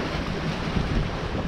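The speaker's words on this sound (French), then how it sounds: "le vent se réétablit. 11 à 13 nœuds nord-est, donc voile, et on marche bien" Steady wind at sea buffets a sailboat under sail in an 11 to 13 knot northeasterly off Greece, a loud continuous rush of wind noise mixed with water wash and no talking.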